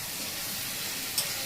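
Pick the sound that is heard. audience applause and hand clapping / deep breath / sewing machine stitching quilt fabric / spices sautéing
spices sautéing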